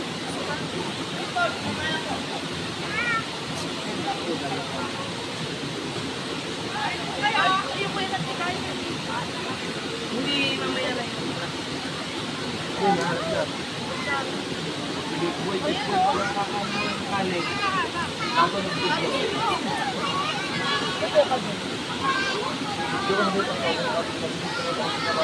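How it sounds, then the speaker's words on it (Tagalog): A river at the foot of Mount Banahaw, crowded with bathers: a steady broad wash of flowing water mixed with a distant babble of many voices and splashing, with a nearby person talking. "Ang dami pong taong naliligo dito sa ilog."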